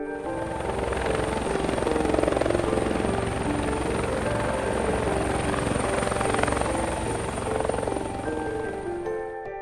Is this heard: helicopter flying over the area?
yes